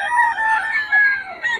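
A yellow-legged hatch rooster gives a loud, close, drawn-out call at a market, heard as a couple of strained crowing phrases with some clucking quality.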